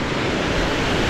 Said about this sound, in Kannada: ಆ ಅಲೆಗಳು ಸದ್ದು ಎಷ್ಟು ಚಂದ ಅಲ್ವಾ ನೋಡಿ